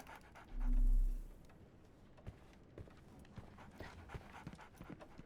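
Dogs pant in Sherlock Holmes The Awakened, a quick, soft breathy rhythm that carries on steadily after a brief low rumble at the start.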